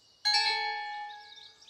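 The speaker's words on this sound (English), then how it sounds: "Ring your bell, Lindy." A single bright bell chime rings out in a Noddy in Toyland cartoon, striking sharply and then fading with a long, clear ringing tail.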